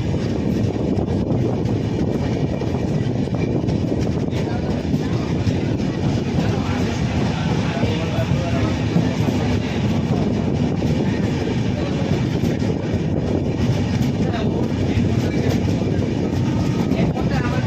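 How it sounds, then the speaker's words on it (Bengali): Inside the Puri–Howrah superfast express (12838), the train rumbles steadily along the rails with a continuous low roar and faint rhythmic clatter throughout. "সঠিক টাইমে আমাদের ট্রেন ছাড়লো পুরী স্টেশন থেকে"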